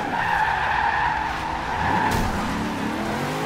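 A car drifting into a 360-degree spin in a racing video game, with steady loud tire squeal and skidding over a continuous engine tone, plus a brief sharper burst partway through.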